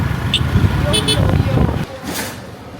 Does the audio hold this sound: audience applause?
no